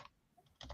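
A brief clatter of computer keyboard keys, a faint tap and then a quick cluster of louder strokes close by.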